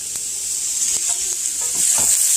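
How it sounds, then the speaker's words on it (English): Hash browns fry in a pan with a loud, steady sizzle as a spatula stirs them, making several scraping strokes close by with no talking. "Let's give our hash browns a stir real quick."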